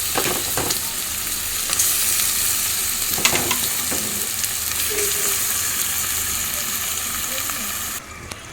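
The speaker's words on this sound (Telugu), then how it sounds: "ఇప్పుడైతే నేను చికెన్ అంత ఇందులో వేస్తున్నాను" Chicken pieces for gongura chicken curry frying in a pan, with a steady loud sizzle throughout and scattered scraping clatters of stirring, without any voices.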